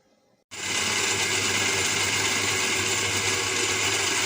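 An electric food chopper switches on after a brief quiet moment and runs as a loud, steady whir, mincing keema with spices and dry coriander for kebabs.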